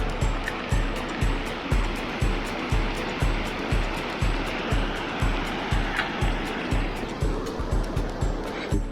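Superior Creek flows beneath a big bridge along a mountain trail in the Bighole Mountains, a loud steady rush of water mixed with regular thumping footsteps on the bridge.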